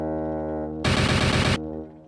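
Fireworks go off in a Donkey Kong Country video game: a sustained musical tone is cut by a loud, rapid burst of crackling explosions lasting under a second, after which the tone returns and fades.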